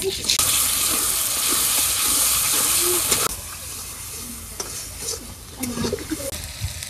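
Steady oily sizzle of onion and shrimp frying in a pan, loud and close, with occasional stirring scrapes; the hiss drops somewhat partway through.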